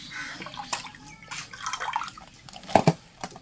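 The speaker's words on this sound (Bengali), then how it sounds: "সেই তেলে এখন দেবো একটু কেওড়া জল" Kewra water is poured into reserved oil for biryani, giving soft trickling and dripping splashes with a few brighter plinks, faint and close, in short irregular bursts.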